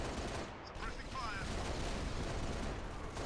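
Pelican nose gun firing powerful shots in Halo: Reach, a dense continuous barrage of gunfire and blasts filling the whole stretch, loud and close with no pauses.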